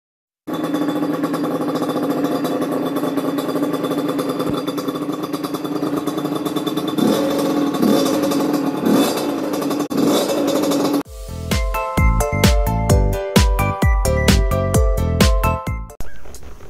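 A tuned 70cc moped engine with a 24 mm carburettor buzzes at a steady idle, then revs in sharp, rising bursts with crackling pops, loud and close with no talking.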